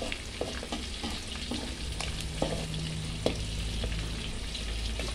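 Sun-dried fish frying in fresh oil over low heat, a dense continuous sizzle close by with a few soft taps and clicks, steady and unbroken with no one talking.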